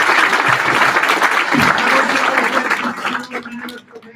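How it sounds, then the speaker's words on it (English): Sustained audience applause fills a graduation ceremony hall for a police commissioner, dense and steady, then thins out near the end. "can we give him a big gigantic round of applause?"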